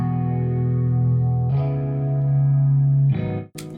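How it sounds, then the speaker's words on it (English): A Rhodes electric piano run through a Focus 1 effects plugin, sustained chords with a thick, saturated, chorused tone, changing twice before cutting off abruptly near the end. "So this is with Focus 1 on the Rhodes."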